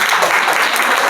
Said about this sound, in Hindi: Very good, Tali बजाइए।